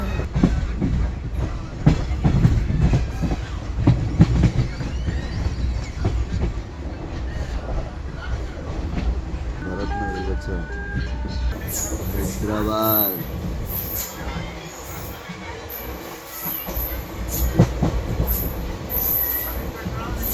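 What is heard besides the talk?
train passing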